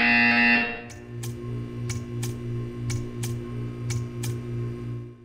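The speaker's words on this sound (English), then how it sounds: "You will hear a buzzer. When you hear the buzzer, stare at the art." A buzzer sounds in the video game Portal 2 as a row of evenly spaced sharp pulses, about eight in a row, over a steady electronic hum after a brief louder tone at the start.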